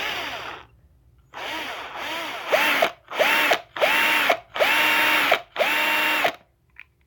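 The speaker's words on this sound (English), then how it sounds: "You really don't need to do too much drilling then" A small power drill works on a 1:64 scale diecast car, running in repeated bursts of a few seconds each with short pauses between them. The later bursts are louder and carry a rising-then-steady whine, close up and with no talking.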